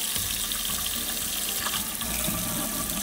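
Water runs steadily from a Moen kitchen faucet into a sink, a close, continuous splashing rush with no voices over it.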